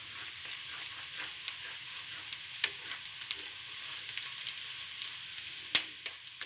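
Onion and garlic sautéing in a pan for spaghetti, a steady soft sizzle with scattered clicks and scrapes of stirring, one sharper clack near the end, no talk.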